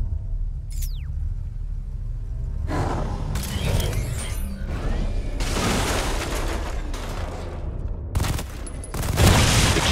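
Gunfire in Batman: Arkham Knight, heard as a run of loud, broadband bursts and booms over a steady rumble of game noise, with a final heavy blast near the end.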